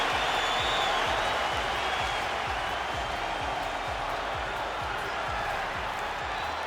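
Capacity arena crowd roaring before a UFC heavyweight championship fight in the Octagon, a dense, steady wash of cheering and applause that holds at full level throughout.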